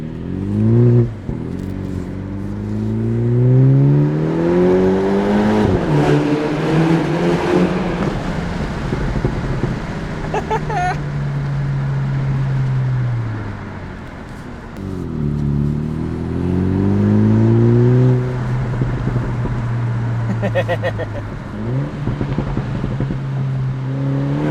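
A MINI John Cooper Works F56 hatchback with its rear muffler fully bypassed, exhaust valve open, revving and pulling hard through several gears, each rising engine note dropping at the shift, loud and sustained throughout without talk.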